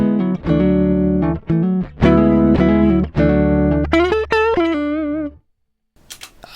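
An electric guitar played through the twin amp model of a Zoom G5 multi-effects processor rings out a run of sustained chords and notes with slight vibrato, close and loud, then stops into near silence.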